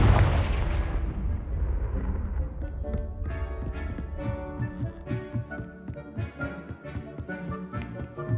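A Confringo spell blast in the video game Hogwarts Legacy hits with a loud, booming burst that slowly rumbles away, followed by rhythmic, thudding game effects and music.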